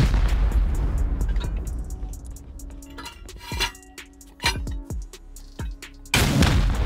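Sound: gunshots in a video game

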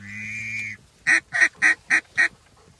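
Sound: ducks quacking during a duck hunt

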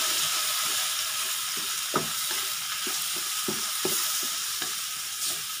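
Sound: stirring mango sambal in a pan

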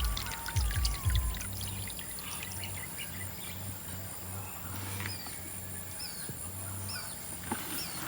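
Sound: pouring water to wash sand clams

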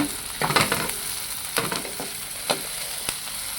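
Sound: frying in a pan until browned

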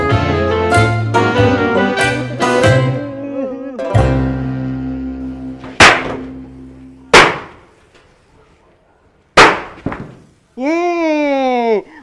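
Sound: firecracker explosions

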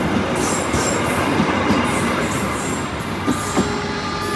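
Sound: Supas Surabaya-Pasuruan commuter train passing

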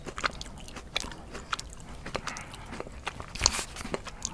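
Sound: biting and chewing jelly beans

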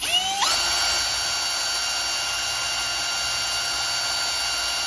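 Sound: drill pilot drilling holes in acrylic perspex sheet

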